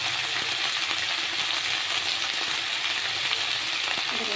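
Mustard-oil frying of drumstick stems with potato, a steady close sizzle filling the whole stretch, with soft scrapes of a spatula stirring lightly through it.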